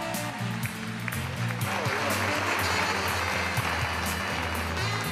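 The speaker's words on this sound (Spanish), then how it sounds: "Un aplauso para los nuevos comunicadores sociales de nuestra universidad." Applause at a university graduation ceremony honouring new social communication graduates: steady crowd clapping throughout, mixed with background music or a low sustained tone and some voices.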